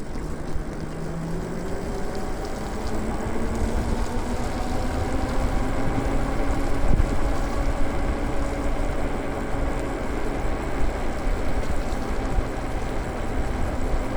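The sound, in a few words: Lyric Graffiti e-bike tire noise while riding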